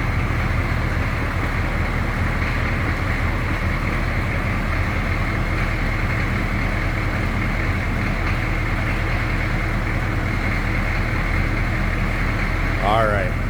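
A 1982 Chevrolet C10 Silverado diesel idles steadily, giving a constant, loud, low clattering drone that barely changes, with a brief high chirp near the very end.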